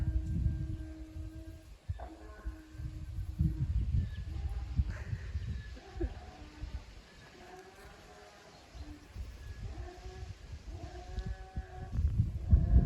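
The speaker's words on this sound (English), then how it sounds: "What a big donkey noise." A large donkey brays in loud, ragged honks, repeating through the clip over outdoor background noise in Bulgaria.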